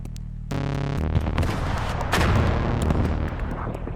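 Stugna-P anti-tank missile launched remotely in a military simulation game, a loud booming launch blast followed by a sustained roaring rush and rumbling echo, dense and close with no voices.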